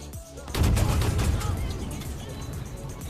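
Tank autocannon fire in War Thunder, a rapid rolling stream of shots beginning abruptly and continuing steadily, dense and moderately loud under a continuous bed of game noise.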